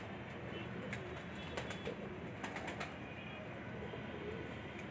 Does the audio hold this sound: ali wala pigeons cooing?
yes